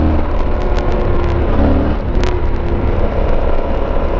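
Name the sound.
Tenere motorcycle riding while rear brake is tested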